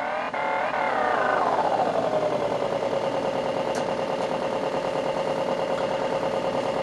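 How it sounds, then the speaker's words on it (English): A first-generation Suzuki Hayabusa engine runs at very high revs, its high whine sliding down in pitch and then holding a steady, buzzing tone. It sounds loud and close, with no talking. "here we can see it on the rev limiter"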